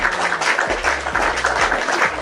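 Audience at a religious debate breaking into steady applause, dense overlapping claps sustained and fairly loud throughout.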